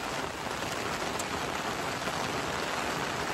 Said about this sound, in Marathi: म्हणजे आता पावसाला सुरू आहे असं वाटतंय